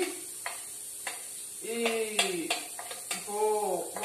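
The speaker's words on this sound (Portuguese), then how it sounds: "Tô tirando aqui o arroz aqui da panela, ó." A spoon scrapes and knocks against a cooking pot while rice is taken out, several sharp metallic clinks and scrapes at an uneven pace, close and fairly quiet, with a faint voice.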